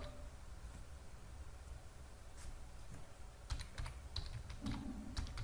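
Keys clatter on a computer keyboard as a command is typed into a terminal to launch an emulator, a quiet stretch giving way to a run of crisp, close clicks near the end over faint room hiss.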